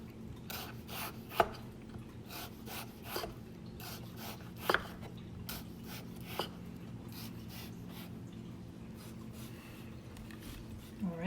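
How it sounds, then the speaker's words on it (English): A knife cuts repeatedly through a potato and stops against a wooden spoon underneath, giving a rhythmic series of crisp, close taps and scrapes over a steady low hum. "The reason we're using a wooden spoon or your chopsticks is so that you don't cut all the way through your potato."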